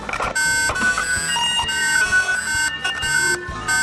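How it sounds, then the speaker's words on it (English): A wireless video door intercom's tamper alarm beeps continuously in rapid repeated tones, loud and close, with a steady high-pitched ringing throughout. "indoor unit and outdoor unit will all give out a pressing alarm"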